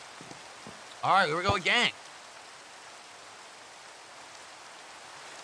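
Soft, steady rain falls in the Minecraft video game as a constant hiss in the background, while someone speaks briefly over it near the start.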